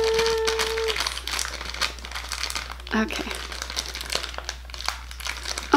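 Crinkling plastic packaging being pulled at and torn open, close up, with bursts of rustling and a brief spoken word.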